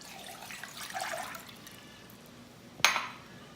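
Water is poured for bread dough in a soft splashing trickle, then a brief louder splash near the end, quiet and close.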